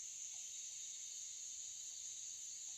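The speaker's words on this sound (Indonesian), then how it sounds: "paling hanya ada kedengaran bunyi jangkrik" Steady insect chirring, like crickets, fills a quiet hill forest as a continuous high shrill drone, moderately loud and alone with no other sounds.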